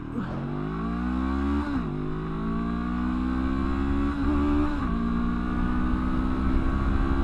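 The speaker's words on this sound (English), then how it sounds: "let's do 0 to 70 to 0 brake test, acceleration and brake test. Okay, full power." A Honda NX500 adventure motorcycle engine roars close by, its pitch climbing hard under full throttle, with brief dips as it shifts up through the gears.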